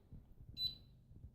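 A single short, high electronic beep from an Arduino-built model level-crossing signal with a barrier, faint and brief over a low background rumble.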